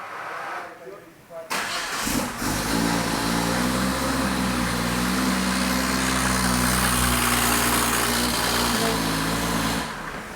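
A Cresta car engine with a just-repaired exhaust leak cranks and catches, then idles steadily with a loud, low rumbling drone for several seconds before cutting off.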